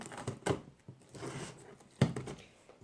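Scissors snip and crinkle through packaging, with two sharper cuts standing out among softer rustling, close by.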